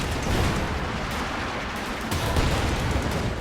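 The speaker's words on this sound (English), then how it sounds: "Infantry support gun sets off a friendly mine there." A mine detonating in Company of Heroes 2 as an infantry support gun rolls over it, heard as a loud, dense burst of battle noise with rumbling blasts and crackling fire sustained throughout, with no voices.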